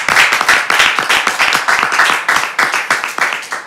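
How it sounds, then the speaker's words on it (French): Studio audience applauding loudly on a French talk show, dense close clapping from many hands that holds strong for several seconds and tapers slightly. "Je veux qu'on l'applaudisse quand même assez fort pour son courage."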